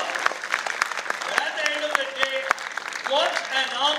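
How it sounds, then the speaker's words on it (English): An audience at the TCS InQuizitive 2024 Ahmedabad regional quiz finals claps, with scattered sharp hand claps heard under a person talking over the room. "can we have a round of applause for Anamaya and Reeves?"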